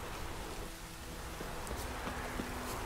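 Rain falling in The Witcher 3: Wild Hunt, a constant dense hiss of downpour with faint scattered tones from the game underneath, steady throughout.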